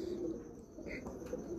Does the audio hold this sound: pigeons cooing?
yes